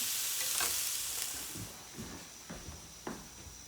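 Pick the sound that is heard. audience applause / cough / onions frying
onions frying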